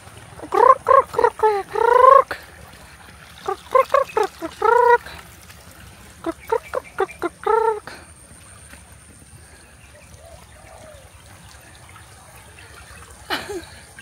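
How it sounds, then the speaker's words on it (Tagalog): Several bursts of rapid, nasal quacking calls, close and fairly loud, in three clusters, followed by quiet with faint background hiss. "That's the duck."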